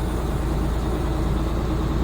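The engine of an Amertek 4x4 fire truck runs with a steady, loud, low diesel rumble that fills the whole moment without a break.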